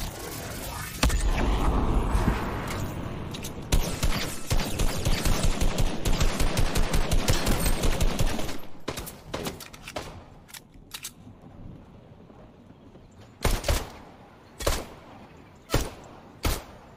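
Rapid automatic gunfire from a weapon in the video game Fortnite, a loud sustained burst of shots for several seconds, followed by a handful of separate single shots spaced apart.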